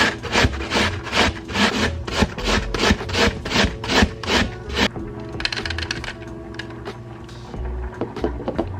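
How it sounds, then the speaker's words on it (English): Apple shredded on a grater, a series of rhythmic raspy scraping strokes, loud and close for several seconds, then quieter irregular scraping and clicks as the grating slows. "So I'm going to shred the apple"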